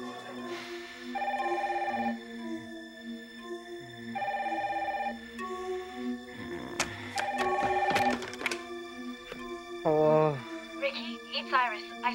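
A telephone rings at night in a home, repeating its electronic ring in steady bursts, with voices and other household sounds in the background.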